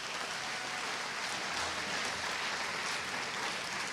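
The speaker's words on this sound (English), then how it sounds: "Let's give another round of applause for all of our state officer candidates." Sustained applause from a large audience at a 4-H state assembly, honoring state officer candidates; dense, steady clapping fills the room at an even level with no voices above it.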